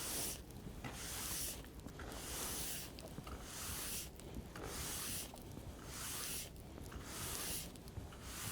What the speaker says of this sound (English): So I'm going to start with the large oval steel. I'm going to brush out as much as I can